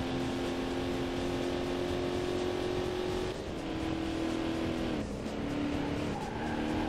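Cars racing in the PC game Corvette: 50th Anniversary, a loud, steady engine drone with pitch shifting down through gear changes, alone without talk.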